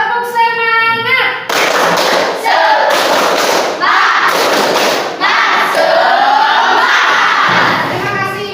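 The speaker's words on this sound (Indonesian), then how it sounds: "Tepuk semangat." Children in an Indonesian classroom clap in a rhythmic tepuk semangat chant, rapid clapping bursts in patterned groups with shouted chant words, loud and close, filling the room.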